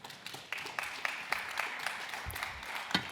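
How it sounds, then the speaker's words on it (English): An audience at a cannabinoid research conference in Berlin gives the panelists a round of scattered applause, faint and fairly distant with uneven individual claps. "Some round of applause for our panelists."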